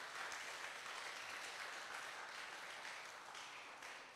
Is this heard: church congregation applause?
yes